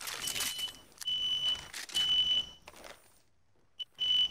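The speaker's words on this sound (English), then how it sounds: "My smoke alarm just went off." A household smoke alarm goes off with loud, shrill beeps that repeat in bursts and are separated by short gaps of near silence.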